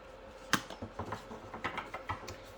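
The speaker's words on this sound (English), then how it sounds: "let me shuffle this around" A deck of cards being shuffled, giving a string of light, rapid clicking riffles and snaps with a sharper slap near the start, close and fairly quiet with no talking.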